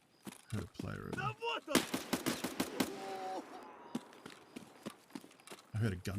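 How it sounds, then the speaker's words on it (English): Gunfire from the Escape from Tarkov video game, a rapid series of sharp broadband cracks in the middle of the clip, with footstep-like impacts and game noise around it and a voice talking near the start and end. "I heard a gunshot over here though."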